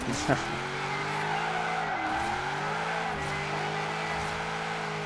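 Forza Horizon 4 car drifting, engine holding a steady loud drone with shifting pitch as the tires squeal continuously through the slide, a brief sharp transient near the start.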